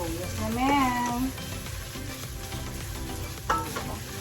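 Chopped garlic, already browned, and onion sizzle in a hot pan as they fry, a moderate crackle that holds steady, with a brief voice-like tone rising over it early on and a utensil knock near the end.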